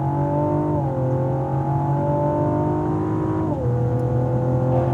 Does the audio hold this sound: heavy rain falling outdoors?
no